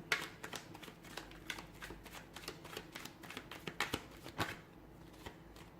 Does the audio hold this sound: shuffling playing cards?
yes